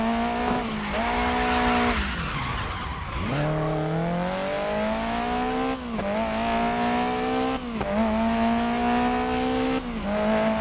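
Race car tyres squeal through handbrake slides in the racing game Grid Legends, sustained skids layered over a revving engine that climbs and drops in pitch across several corners, loud and close.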